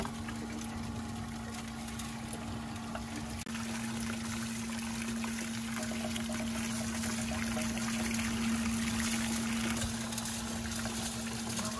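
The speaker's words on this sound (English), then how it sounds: "I need to crank up the water even though to get it to go down the sluice." Water runs down a gold-prospecting sluice in a steady, even wash and trickle, with a constant low pump-like hum beneath it and no talking.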